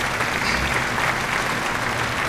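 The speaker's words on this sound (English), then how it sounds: "let's give a round of applause for the panel of judges" A room at a 2023 school debate breaks into a brief round of applause for the panel of judges, dense steady clapping from a seated audience with no voices over it.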